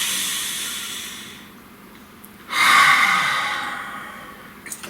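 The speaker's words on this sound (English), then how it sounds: "Focus on your breath. I will do the same." A single deep breath drawn in and let out slowly, a soft airy hiss swelling in the middle of a quiet setting, close and alone with no talk.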